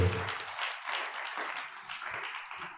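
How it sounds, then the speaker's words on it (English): At a media and sustainability summit, an audience gives speakers a short, moderately loud round of applause, steady clapping that fades slightly toward the end. "Can we also give Ms. Keletso Ratlhagane a huge round of applause?"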